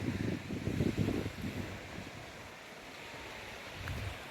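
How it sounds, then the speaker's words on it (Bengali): River waves in the Sundarbans wash and rumble with a broad rushing roar, swelling in stronger surges early on and again near the end, mixed with wind noise against the microphone. "ঢেউগুলো প্রচণ্ড আওয়াজ হচ্ছে"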